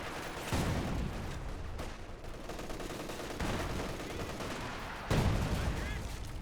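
MG34 machine gun fire in Company of Heroes 2, a few sharp bursts among distant battle noise, with the loudest burst near the end.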